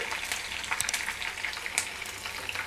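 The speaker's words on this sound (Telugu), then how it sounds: "ఎందుకంటే ఇవి కూడా బాగా వేగిపోవాలి ఎండుమిరపకాయలండి" Dried red chillies fry in hot oil for pulihora, giving a steady, close crackling sizzle with sharp pops scattered throughout and no voices.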